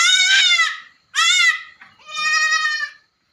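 Goats bleating on a farm where a doe has just had three kids: three loud, close, wavering bleats, each around half a second or longer, separated by short pauses, with no other sound.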